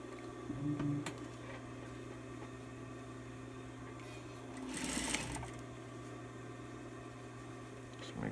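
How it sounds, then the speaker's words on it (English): A sewing machine hums steadily while top stitching a six panel cap, a continuous low motor drone with a brief swell of rustling near the middle. "I'm going to do the top stitching on this."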